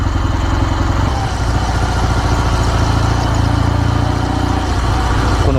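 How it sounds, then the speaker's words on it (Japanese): A Kawasaki W650 motorcycle fitted with a road-legal Wyvan Classic muffler idles close by, a deep, steady, thumping exhaust beat with no talk. "この Y1 クラシックマフラーはですね、車検に対応してるマフラーなんで、 こういうなんかのぶとい排気音が"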